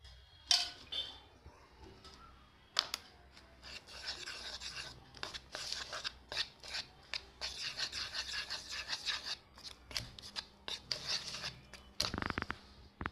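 A spoon stirring cashews and raisins into a thick Christmas cake batter made from toast biscuit crumbs, with soft scraping and rubbing against a bowl in irregular bursts and a few sharper clinks, fairly quiet.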